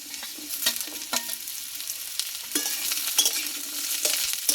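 Yardlong beans and half-cooked potatoes fry in a pan, with a steady sizzle under repeated scraping and clattering strokes from a spatula as the vegetables are stirred.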